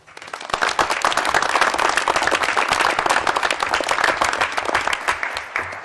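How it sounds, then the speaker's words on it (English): Dense, crackling applause from a crowd of attendees at a heroin-awareness event, loud and close, building quickly and holding steady for several seconds. "Please, a round of applause"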